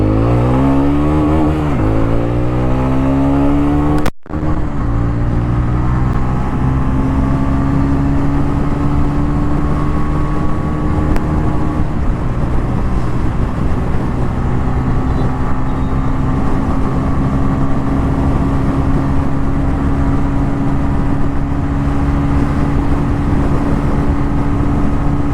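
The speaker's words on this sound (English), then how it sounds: "I just want to show you that how quick this motorcycle can go to the 100 km/h mark" A TVS Ronin 225 motorcycle accelerates hard on an open road, its engine note climbing steadily through the gears with a brief break at a shift, then holding a loud, sustained drone mixed with wind rush.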